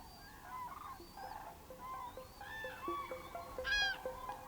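European cranes give several honking, bugling calls at a distance, overlapping in short bursts over a quiet outdoor background, one louder call near the end.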